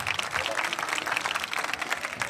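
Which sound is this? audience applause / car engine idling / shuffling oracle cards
audience applause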